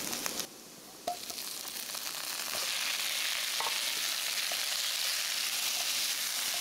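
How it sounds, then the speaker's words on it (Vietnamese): Pineapple stir-frying in a pan of hot oil with garlic and shallots, a steady loud sizzle with a few sharp stirring clicks near the start. "Tiếp tục mình cho khóm vào xào lên."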